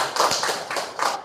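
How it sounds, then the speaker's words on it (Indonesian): A classroom of students claps briefly for a classmate's correct answer, a short burst of a few scattered, uneven claps at close range, with no talking. "Iya, berikan tepuk tangan."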